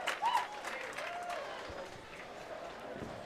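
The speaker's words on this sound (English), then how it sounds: "And you can hear this crowd after that Scarver turkey." A crowd applauding and cheering at Wantagh Lanes bowling alley during a high school boys bowling final after a strike run, a moderate burst of clapping that eases into a steady murmur of crowd noise under faint talk.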